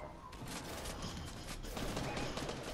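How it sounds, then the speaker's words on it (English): Rapid gunfire from a Marvel Rivals match with Doctor Doom players crackles as a continuous, dense volley of shots. It stays loud and fairly close throughout, with faint game noise mixed in. "Somebody shooting here"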